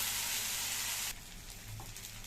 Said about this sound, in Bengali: এবার সিদ্ধ চাউমিনটা দিয়ে এখন একটু নাড়াচাড়া করবো, ভাজা ভাজা করবো